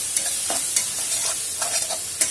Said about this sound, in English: I'm going to put in the masala and I'm going to just let the tomatoes and the onions cook